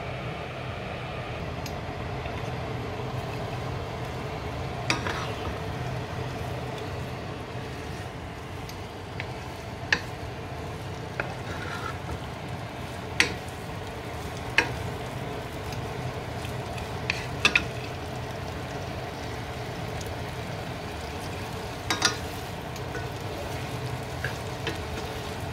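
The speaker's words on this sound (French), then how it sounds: "je vais essayer de mijoter mes épices déjà" Spices simmering in a pot over the fire while cooking a chicken stew, giving a steady, close sizzle and bubbling hiss with occasional small clicks and pops throughout and no talk.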